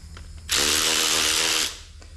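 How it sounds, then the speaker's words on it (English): A 3/8-inch ratchet tightens spark plugs on a PT Cruiser during a valve cover gasket job, giving one steady, close buzzing burst of about a second, with quiet shop background before and after. "I'm using a 3/8 ratchet."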